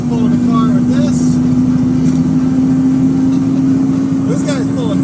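A heavy RV engine drones steadily and loudly while towing a car, its constant hum running the whole time with faint birdlike chirps over it.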